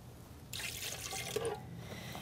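Water poured into a bread machine pan, a soft splashing trickle lasting about a second and a half, faint and close, with no one talking.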